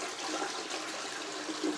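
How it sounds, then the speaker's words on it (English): A toilet cistern flushes while its water is being drained to fit a Fluidmaster bottom entry fill valve. The rushing water is loud, close and steady, with no voices. "So we flush that."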